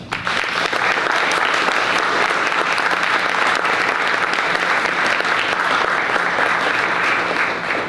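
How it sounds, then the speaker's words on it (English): Sustained, dense audience applause fills a hall at an innovation awards ceremony, a steady roar of many hands clapping at once with no pause. "let's give them all a round of applause"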